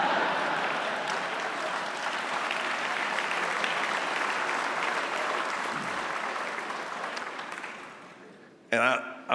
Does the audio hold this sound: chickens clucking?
no